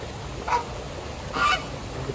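Two short honking duck calls, a second apart, fairly close over a steady outdoor background hiss at a bird park in Malaysia after rain.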